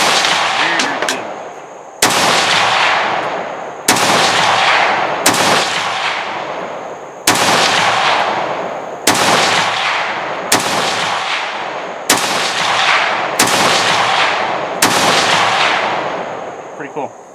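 An SG550-1 sniper rifle firing Swiss Ordnance ammunition at a shooting range: eight loud, sharp gunshots spaced roughly two seconds apart, each followed by a long ringing echo, with no talk between them.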